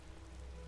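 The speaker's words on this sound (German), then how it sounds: "Wieso regnet's jetzt eigentlich auch noch?" Continuous rain pours down in the video game Enderal in an even, dense wash of sound, steady and unbroken.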